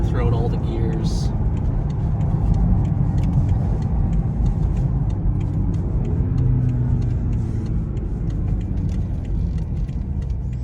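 A BMW X5M SUV engine pulling in first gear, a steady low rumble and road noise from inside the cabin, heard under someone talking throughout.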